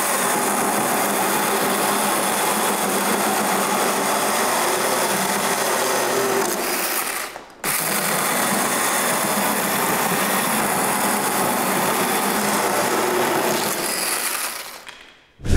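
A 12 or 18 V cordless pole saw cuts through a garden branch with a steady, loud motor whine, cutting out briefly halfway through and then running on until it stops.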